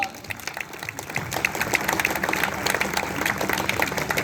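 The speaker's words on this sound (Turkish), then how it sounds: "Büyük alkışlarla." Audience applause fills a press awards ceremony at an Izmir press camp, a dense, steady patter of many hands clapping that swells after the first second and holds, with some voices mixed in.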